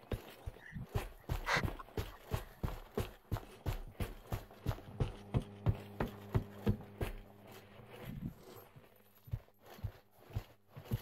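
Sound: footsteps in the video game Pavlov

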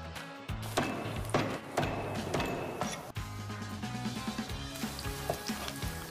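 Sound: ginger slices frying in hot oil

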